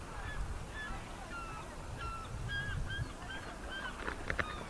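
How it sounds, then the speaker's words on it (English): Geese honk repeatedly on Lake Huron in Canada, a scattering of calls over steady water and paddling noise, moderately distant and calm. "Just the peaceful sounds of the water, the birds, the gentle paddling."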